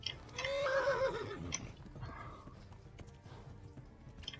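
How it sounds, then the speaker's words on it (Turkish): A horse in a video game lets out one loud, wavering neigh near the start, then fades into softer snorting and hoof movement. "At kişneyecek şimdi."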